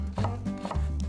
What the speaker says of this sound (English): And then we're going to cut up an onion like that.